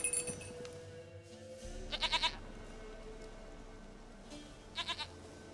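A goat in The Witcher 3 video game gives two short, quavering bleats a few seconds apart, faint over a quiet ambient background.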